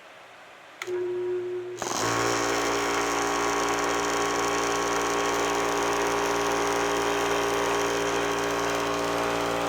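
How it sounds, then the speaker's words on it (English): A Yong Heng compressor starts up with its bleed valve open, running unloaded: a short click and brief hum, then a steady, loud mechanical drone that settles and holds alone without voices. "We're going to start the compressor. My bleed valve is open, so it's starting under zero load."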